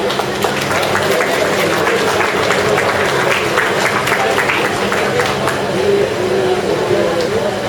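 An audience at a student prize distribution ceremony claps steadily for an honoured student, a dense, sustained roar of hands lasting the whole stretch, with voices mixed into the crowd noise.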